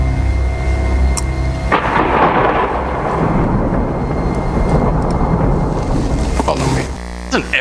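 Loud rolling thunder from lightning strikes rumbles heavily through most of the stretch, with a sharp crack early on and a long sustained roar before it fades.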